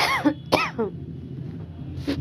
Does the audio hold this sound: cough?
yes